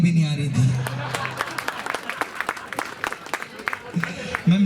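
Audience at a Hindi comedy poetry gathering claps in scattered, uneven bursts that build into patchy applause, while a voice speaks at the start and end.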